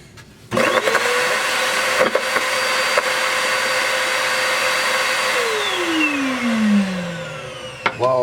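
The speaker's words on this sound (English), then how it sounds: "the last thing I'm gonna try to suck up inside of this vacuum thing are end papers" An Eye Vac stationary vacuum switches on and roars loudly and steadily as it sucks up papers from an apartment floor, then its motor winds down in a falling whine before a few clicks.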